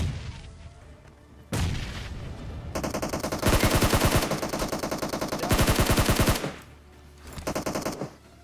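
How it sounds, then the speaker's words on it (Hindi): Heavy bombardment and sustained machine-gun fire in PUBG Mobile, with rapid bursts and booming impacts that swell into loud, dense stretches and then drop back to quieter rumble, no talk. "लेकिन भाई ऊपर तो खतरनाक ही बमबारी चल रही थी।"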